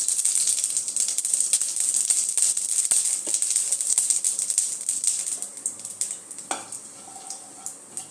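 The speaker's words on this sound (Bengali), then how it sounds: "তেলটা আমার গরম হয়ে গেছে, এর মধ্যে আমি এই গোটা জিরেটা দিয়ে দিলাম।" Whole cumin seeds sizzling in hot oil in a wok, a dense, bright crackle with quick pops throughout, loud and close at first, then easing to a lighter sizzle with a few clinks toward the end.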